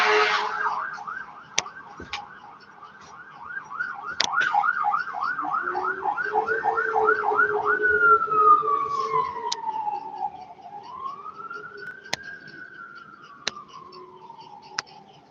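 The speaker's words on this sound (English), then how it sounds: "They're using the sirens to get back." A loud emergency siren wails, rapid yelping cycles giving way to a slow rising and falling tone, with sharp clicks scattered through it.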